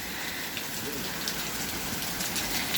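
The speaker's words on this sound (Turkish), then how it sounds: "Yağmurlar başladı." A steady rain falls outdoors among potted flowers, a soft even hiss of drops that stays constant and moderately faint with no break.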